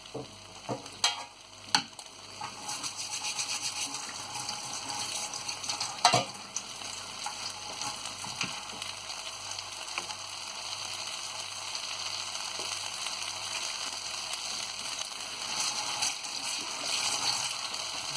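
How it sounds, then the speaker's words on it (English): Quinoa vegan burgers sizzle steadily in a hot pan, a continuous close frying hiss with a few sharp clinks and scrapes of utensils early on and no talking. "let that cook. And while this cooks for another 2 minutes"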